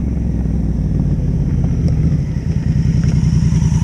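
A Honda motorcycle engine runs loud and close with a steady low rumble and pulsing exhaust beat throughout, no voices over it.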